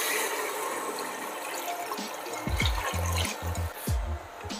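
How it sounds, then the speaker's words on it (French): About a litre of water poured into a pot of sweated leeks for potato soup, a steady splashing rush with a few low glugging knocks near the end. "on va verser environ 1 litre d'eau"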